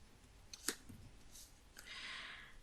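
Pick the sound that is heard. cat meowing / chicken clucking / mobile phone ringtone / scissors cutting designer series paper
scissors cutting designer series paper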